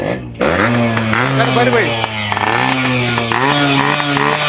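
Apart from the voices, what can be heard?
Yamaha RX 100 motorcycle engine starting and revving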